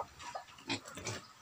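A native pig kept as a fattener gives a few short, close grunts and snorts in quick succession, fairly faint, with no talking.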